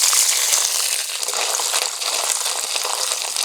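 Chopped coconut pieces and peanuts dropped into hot mustard oil in a pan while cooking arum (ol) stems, giving a steady, close crackling sizzle with fine popping throughout.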